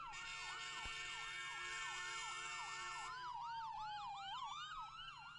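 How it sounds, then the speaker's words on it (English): A wailing ambulance siren sweeps rapidly up and down in a repeating yelp, loud and steady, shifting to a faster, layered pattern partway through. "That ambulance."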